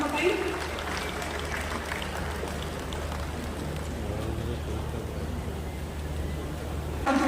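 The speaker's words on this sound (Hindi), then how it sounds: "जोरदार करताली हो जाऊ" A crowd at an agricultural launch event in Odisha claps loudly and continuously, a dense rain-like patter of many hands that stays steady before cutting off near the end.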